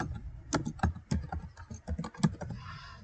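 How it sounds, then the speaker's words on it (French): A typewriter clatters through quick, uneven keystrokes, close and fairly loud with no voices, fading into a soft hiss at the end. "on va indiquer, mettre la machine à écrire"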